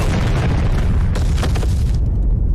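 A loud, booming explosion in a film fills the clip with a dense, rumbling roar that stays heavy throughout before cutting off.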